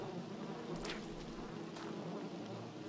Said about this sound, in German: Hier ist jetzt Regen.